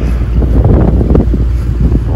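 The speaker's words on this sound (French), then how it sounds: "Voilà votre vent." Strong sea wind buffeting loudly aboard a sailboat crossing from Madeira to the Canary Islands, a dense continuous roar with gusty pulses and water wash, close and without voices.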